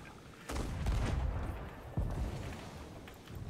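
Ship cannons fire in a pirate galley video game, two heavy booming shots about a second and a half apart, each with a rumbling tail, fairly near and loud with no talk over them.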